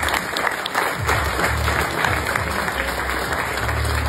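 A hall audience at a French local economic evening claps warmly and continuously, a dense, close wash of many hands with a faint crowd murmur under it.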